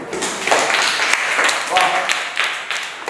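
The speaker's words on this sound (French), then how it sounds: "Applaudissez pour vous." Schoolchildren in a classroom clap together in a brief burst of applause, a dense patter of small hands close by, with children's voices mixed in.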